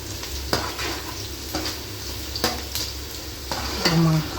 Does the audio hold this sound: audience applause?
no